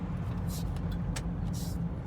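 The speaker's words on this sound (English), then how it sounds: "The engine, you floor it. There is no kick down in the transmission." Chevrolet S15 Blazer engine held at full throttle with no transmission kickdown, a steady, loud, even drone that stays constant throughout.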